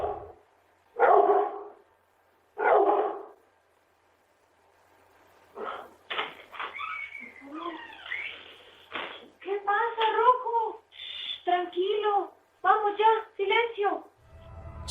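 A dog barks in a living room during a frightening moment, a few sharp barks early on, then a longer stretch of rapid, agitated barking and yelping close by, loud against an otherwise quiet room.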